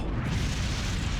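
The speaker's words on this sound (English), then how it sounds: "It was a rocket this entire time." A rocket blasting off in the video game Okami, a dense continuous roaring rumble that fills the whole moment at high volume.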